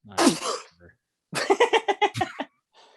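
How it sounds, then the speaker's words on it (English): A sharp burst like a sneeze bursts out, then a short pause and a string of choppy, halting vocal sounds close to the listener. "That was a sneeze, by the way."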